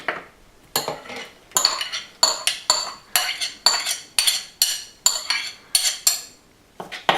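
Metal utensils clink and scrape against a pot in a home kitchen as green lentils go in with fresh ginger, a steady run of about a dozen sharp, close clatters in quick rhythm, with no talking.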